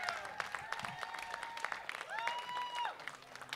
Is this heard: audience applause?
yes